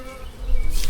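Honey bees buzz steadily around an open hive during queen cell work, a dense close drone with no voices over it.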